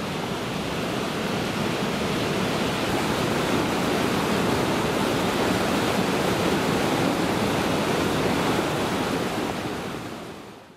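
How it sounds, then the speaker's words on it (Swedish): A large roaring waterfall and wild rapids in a remote river valley, a loud, constant broadband rush of falling water that holds steady before fading at the very end. "Rytande forsar, vilda forsar. Vattenfall."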